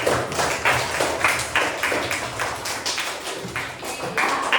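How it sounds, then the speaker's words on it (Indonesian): Students in a classroom applaud a classmate named Nadia, a rhythmic patterned group clap with regular sharp beats, fairly close and steady for several seconds. "Oke, kita beri aplaus dulu untuk Nadia ya."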